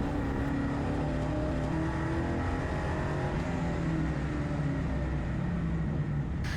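A 6.2 litre V8 race car accelerating on a wet track at Hampton Downs circuit, a loud, steady deep engine roar heard from onboard and sustained throughout without voices.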